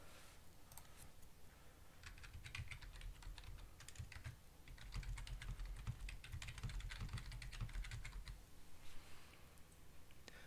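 Steady typing on a computer keyboard while entering an email address: quiet, close key clicks in an irregular run lasting several seconds, with no talk.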